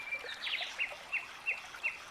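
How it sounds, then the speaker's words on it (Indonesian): Small birds chirp in short, bright bursts about five times in two seconds, fairly faint over a soft background hiss, in a calm outdoor setting beside a flowing river with a light breeze. "Kita mendengar kicauan burung."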